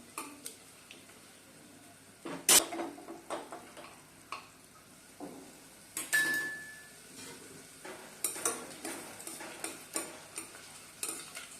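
Sliced onion frying in a pan for matar pulao, a steady soft sizzle broken by scraping stirs and clinks of a utensil against the pan, one sharp metallic knock early on.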